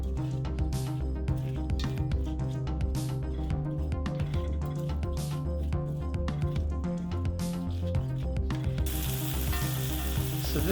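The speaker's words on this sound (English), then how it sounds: "she'll add the onions in to let them caramelize" Onions caramelize in butter in a cast iron wok, giving a continuous close sizzle with repeated stirring scrapes and clatter throughout, no talking.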